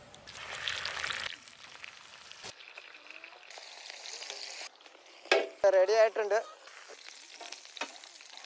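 Pearl spot fish wrapped in a leaf fries in coconut oil, Kerala toddy-shop style, giving bursts of loud close sizzling and crackling between quieter moments, with brief speech heard.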